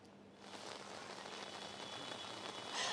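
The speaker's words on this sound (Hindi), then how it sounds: "अब जो बारिश है वो लगातार तेज होती नजर आ रही है" Rain comes down during an outdoor Vijayadashami procession in Gorakhpur, a faint, steady patter that builds slightly louder toward the end, with no voices over it.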